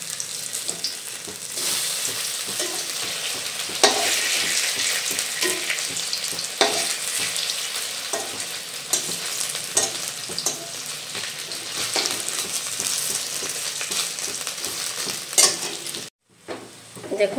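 Bengali jute leaf pakoras fry in hot oil with a steady, loud, continuous sizzle, interrupted by scraping stirs of a utensil in the pan, before a brief cutoff near the end.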